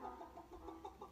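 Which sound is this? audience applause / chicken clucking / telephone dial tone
chicken clucking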